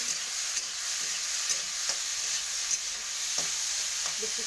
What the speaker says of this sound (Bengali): স্বাদ মতো নুন আর পরিমাণ মতো হলুদ দিয়ে এটাকে আমি 2 মিনিট ভাজাবো